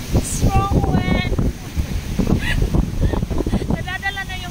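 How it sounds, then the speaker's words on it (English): Strong wind at a beach buffets the microphone with a constant, loud roaring rumble, while a person talks and some high honking calls cut through. "It's so windy, guys."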